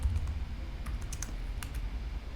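Steady, fairly quiet keystrokes on a computer keyboard while taking notes in the Notion app, with a few sharper clicks standing out, and no talking.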